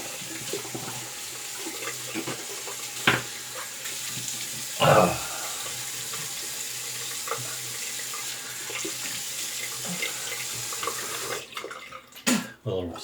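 Tap water running into a bathroom sink to rinse after a double-edge razor shave, a steady close hiss of flow with a few brief splashes and clunks, no talk.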